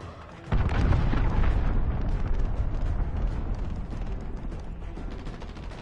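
A cruise missile strike in Call of Duty Modern Warfare, a sudden massive blast that erupts into a long, loud rumbling roar of debris and fire, slowly fading over several seconds.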